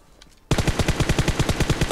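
Automatic rifle fire sprayed in PUBG Mobile: after a quiet lead-in, a loud, close, rapid burst of about fourteen evenly spaced shots rattles on without pause.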